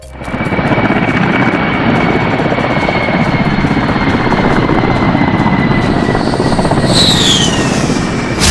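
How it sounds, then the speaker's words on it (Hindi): A steady, loud roar of an F-35 fighter jet overhead, continuous and close with a high whine that rises and sweeps near the end, no voices. "F-35 से गूंजा आसमान, गर्जना से क्यों कांपा पाकिस्तान?"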